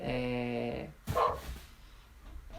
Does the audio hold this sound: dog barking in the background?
yes